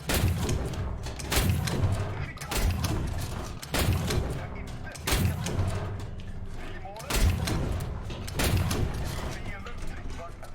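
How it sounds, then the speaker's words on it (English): The SAV 20.12.48 autoloader cannon in War Thunder fires a rapid burst, a series of heavy, evenly spaced booming shots about every one and a half seconds, each followed by mechanical clatter, loud and close. "That's the fire rate of this autoloader."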